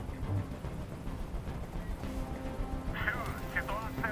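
A police helicopter hovers overhead in the Detroit: Become Human video game, a steady, loud low rumble with rapid rotor thumping throughout, and a voice speaking over it near the end.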